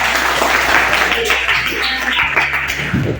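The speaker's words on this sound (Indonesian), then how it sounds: "ya, tepuk tangan Pak Siska." Students in a classroom clap briefly, a fairly loud burst of mixed applause with some faint voices underneath.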